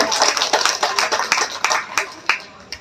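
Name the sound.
applause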